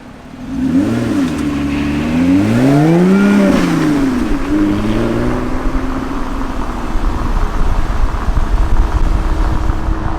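A brand-new Lotus 3-Eleven 430 sports car's engine revs up loud and close, swooping up and down through several gear changes before settling into a steady high drone at speed.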